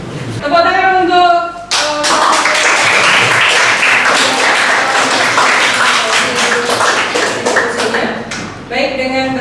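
Classroom applause and clapping fill most of the span, loud and dense, framed by a voice talking before and after.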